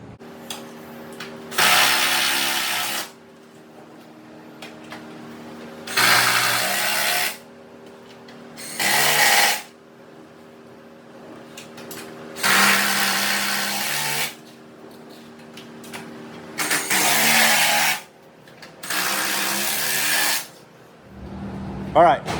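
Bursts of a power tool fastening bolts on a Tesla Model S battery pack in a repair shop, six or seven loud whirring runs of one to two seconds separated by short pauses, with faint talk in the background.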